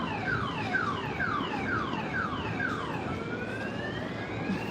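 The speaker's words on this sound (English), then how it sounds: "Why is the FedEx truck making that noise?" Alarm on a FedEx delivery truck on an Upper West Side street in New York City: a loud, steady siren-like alarm repeating swooping descending whoops, then switching to long rising sweeps, with no talking.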